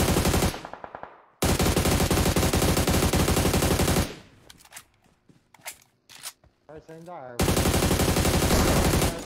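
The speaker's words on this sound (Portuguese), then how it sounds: "Tem tiro lá." Automatic gunfire in the PUBG Mobile battle royale game, loud bursts of rapid shots filling the clip, broken by a quieter middle stretch with scattered single shots and movement, with brief talk from a player.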